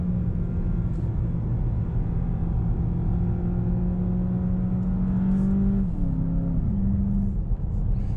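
A 2019 Volkswagen Jetta GLI accelerating on an open road, a steady engine drone climbing in pitch and then dropping sharply as the automatic gearbox upshifts before building again, heard from inside the cabin with no talking.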